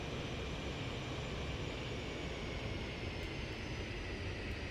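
Lockheed T-33 jet in Microsoft Flight Simulator making a low pass along the runway, a steady broadband engine roar with a whining tone held at constant loudness throughout, no voices.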